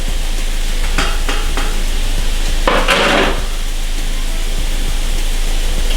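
Corn, carrots and other vegetables sizzle loudly in a pot of locro stew over really high heat, with a wooden utensil scraping and clattering against the pot in several close, uneven strokes and one louder burst of frying.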